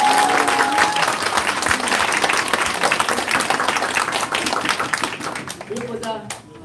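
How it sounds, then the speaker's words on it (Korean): Crowd applause at a Korean political rally launching a parliamentary campaign in Hanam, dense loud clapping sustained across the whole stretch, tapering slightly with voices emerging at the very end. "여러분 박수 한번 보내주십시오."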